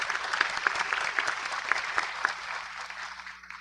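Applause from the audience at a biodiversity conference closing address, brisk clapping with a few sharp individual claps standing out, fading toward the end.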